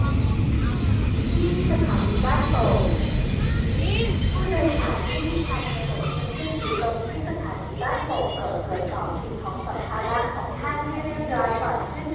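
Express train 167 rolls to a stop at Ban Pong station in Thailand, its wheels squealing loudly for about seven seconds before the screech ends and station noise and voices continue.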